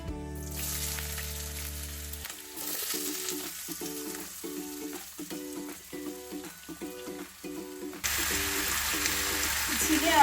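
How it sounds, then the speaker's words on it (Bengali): Ridge gourd and potato drop into hot oil seasoned with nigella seeds for a Bengali jhinge aloo posto, setting off a loud, steady sizzle with repeated clinks of a utensil stirring close by, the frying swelling louder near the end. "এবারে আলু আর ঝিঙে আমি আস্তে আস্তে সবটা ছেড়ে দিচ্ছি।"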